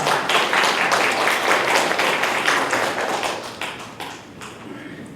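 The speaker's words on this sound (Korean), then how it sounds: "박수로 맞이해 주시면 고맙겠습니다" Audience applause at a nuclear safety regulation information conference session, a crowd clapping briskly for a few seconds before thinning out into scattered claps.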